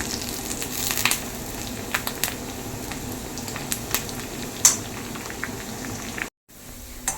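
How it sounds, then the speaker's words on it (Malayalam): Onions and curry leaves frying in hot oil, a steady, close crackling sizzle with scattered sharper pops throughout, alone and with no voice, briefly cutting out near the end. "ഉള്ളിയെല്ലാം മൂത്ത് വരുന്നുണ്ട് ഇനി നമുക്ക് ഇത്തിരി കറിവേപ്പിലയും കൂടി ഇട്ട് കൊടുക്കാം"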